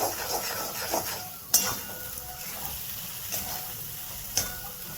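Green masala paste fries in oil for a home-style sprouted moth bean curry, giving a steady low sizzle with a few sharp clinks of a spoon against the pan and light stirring scrapes.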